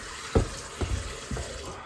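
Soapy water is stirred around in a container during a knife sharpening session, giving three soft sloshing splashes spaced about half a second apart over a steady background hiss.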